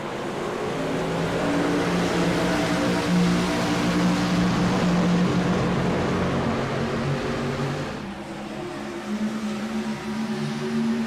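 IROC race cars accelerate on a restart at Daytona's tri-oval, a dense, loud, steady engine roar with droning pitch that eases slightly toward the end.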